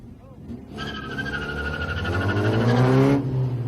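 A drift car launches off the line at a pro drifting championship final, engine revving up into a loud rising whine that swells over three seconds, with an announcer talking over it.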